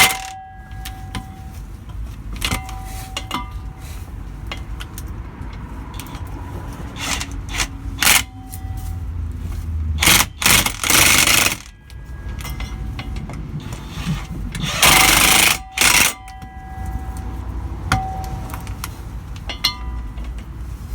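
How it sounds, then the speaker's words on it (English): Prop shaft bolts being tightened at the differential of a Ford Transit mk6: repeated ratchet clicking close by, with bursts of louder buzzing tool noise and metallic clinks under the vehicle. "just tighten up this prop shaft at the back on the diff"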